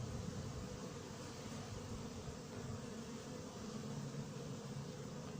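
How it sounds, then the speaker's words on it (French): Bees buzz densely around a hornet-proof tent of 6 mm mesh, forming a steady, close, continuous drone with no pauses. "Je suis en plein milieu des abeilles."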